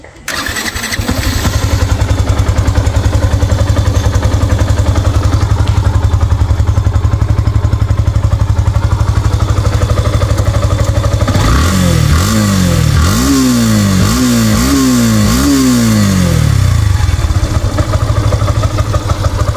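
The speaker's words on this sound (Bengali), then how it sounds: "চলুন দেখাবো, স্টার্ট করে সাউন্ড কন্ডিশন চলে যাবো দামের ব্যাপারে।" A 2023 Yamaha FZS version 2 motorcycle runs in a steady, close, loud idle with a mechanical clatter. Partway through, several quick throttle blips rise and fall in repeated revving swells before it settles back into the idle.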